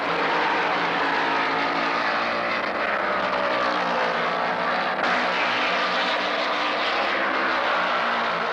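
NASCAR stock cars, including a Hemi-powered car and a Chevy, race at the 1972 Winston 500 in Alabama, making a loud, continuous engine roar that holds steady and unbroken with no voices.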